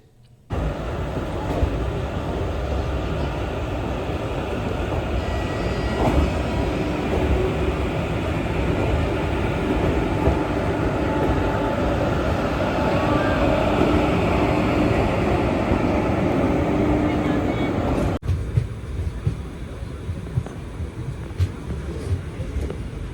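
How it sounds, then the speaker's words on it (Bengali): Passenger train leaving Howrah station, platform 12, heard from inside as a loud steady rumble with wind roar that carries on for most of the stretch before it cuts to a quieter, rattling interior. "হাওড়া স্টেশনের বারো নম্বর প্ল্যাটফর্ম থেকে একেবারে নির্ধারিত সময় আমাদের ট্রেন রওনা দিল তার গন্তব্যের উদ্দেশ্যে"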